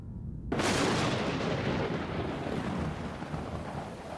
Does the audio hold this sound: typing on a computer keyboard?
no